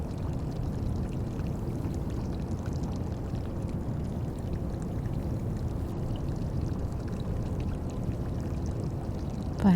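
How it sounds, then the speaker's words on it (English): Water flows steadily in a quiet garden setting, a continuous soft rushing wash with no breaks from start to finish and no voices. "by the sound of the water"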